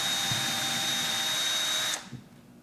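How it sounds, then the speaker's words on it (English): A power drill drives a drywall screw for a test fit on a custom steering yoke for a Sea-Doo Spark kart build, with a loud close whine that stops abruptly after two seconds. "let's test fit it with the screw first before dealing with the epoxy"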